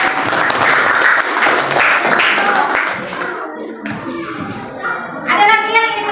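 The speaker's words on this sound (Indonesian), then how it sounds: "Oke, tepuk tangan dulu" Applause from a classroom of students after a group presentation, a burst of clapping mixed with children's voices that fades out, followed by a teacher talking.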